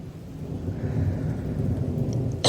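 Thunder from close cloud-to-ground lightning in a severe thunderstorm with 60 mph wind gusts, a loud sustained low rumble rolling over rain and wind noise, ending in a sharper crack.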